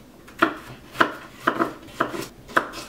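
A knife chops vegetables into sticks on a cutting board, with six crisp, evenly spaced cuts about half a second apart. The cuts are close and distinct against a quiet background.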